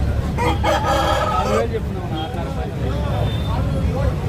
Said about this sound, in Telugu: ఇది ఎర్ర కక్కిర